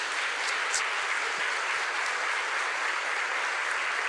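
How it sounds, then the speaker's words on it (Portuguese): A church congregation applauding during a sermon, with dense, sustained clapping that holds at an even level across the whole stretch. "Vamos aplaudir Jesus de Nazaré."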